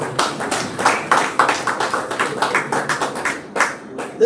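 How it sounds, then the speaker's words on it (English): An audience claps steadily for retiring staff at a Kellits High School award ceremony, the individual claps loud, close and distinct throughout the short stretch. "this esteemed group of 40 persons with over 400 years of service amongst them. Isn't that, deserves a round of applause."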